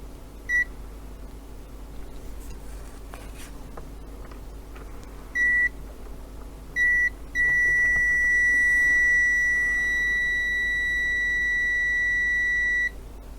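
An Owon OW18E multimeter in continuity test mode gives short steady beeps near 2 kHz, two brief chirps followed by a longer sustained tone of about six seconds, clear over faint background hum.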